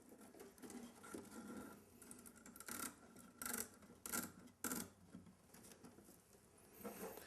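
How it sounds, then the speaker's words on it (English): Sheet metal shears snip a seam into screen wire, giving a series of short, crisp, rasping cuts with pauses between them, heard close and alone. "I will use my sheet metal shears to cut a seam in the screen"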